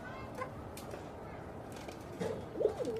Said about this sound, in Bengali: কবুতর ডাকাডাকি করতেছে খাবার খাইতেছে